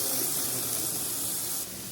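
Tomatoes added to onions frying in a pan, with a loud continuous sizzling hiss that eases slightly near the end.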